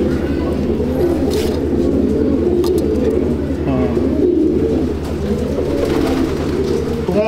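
Andhra breed pigeons in a loft coo repeatedly in low, throaty rolling calls, several birds overlapping close by over a steady background rumble, with occasional sharper sounds and no clear talk.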